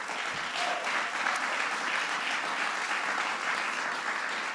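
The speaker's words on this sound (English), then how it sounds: "Give them a big round of applause" Big round of applause from an audience at an honorees event in Washington, a dense, even roar of clapping held steady throughout, somewhat distant and free of talk.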